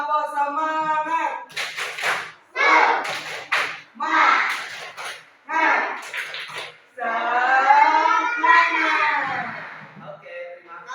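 Schoolchildren in an Indonesian classroom play a rhythmic clapping game, sharp claps in bursts punctuating loud group chanting and singing voices throughout.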